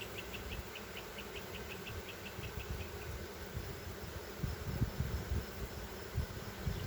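Honey bees buzz around an open hive during an inspection, a dense steady drone with faint rhythmic chirps early on and soft knocks and handling bumps near the end.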